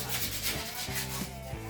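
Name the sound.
sanding a bicycle part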